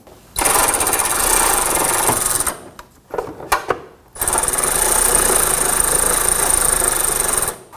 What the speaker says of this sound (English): I'm going to go ahead and get my electric ratchet up there and we'll snug that down